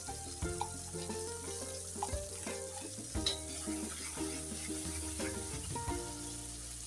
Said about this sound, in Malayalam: ഇനി ഈ എണ്ണയിലേക്ക് നമുക്ക് അരച്ച് തയ്യാറാക്കി വെച്ചിരിക്കുന്ന ഈ പേസ്റ്റ് ചേർത്ത് ഒരു 1-2 മിനിറ്റ് നേരം ഒന്ന് ഇളക്കാം